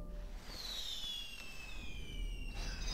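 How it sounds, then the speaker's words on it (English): Fireworks in the video game Sky: Children of the Light, descending whistling streaks and soft crackles over a steady low rumble, moderately faint, with no talk. "Fireworks!"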